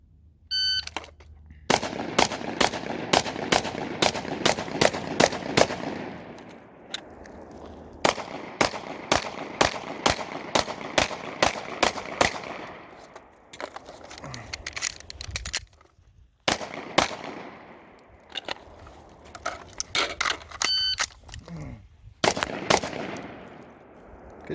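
Rapid close-range gunshots from a Brownells BRN-180 upper on a rifle and a pistol, fired in fast strings of sharp, loud cracks separated by short pauses, with a few slower single shots and a faint voice in the gaps.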